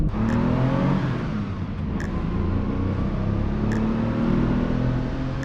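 An old car without power steering drives along, its engine holding a steady, loud drone with a faint rising whine and light rhythmic ticks, no voices present.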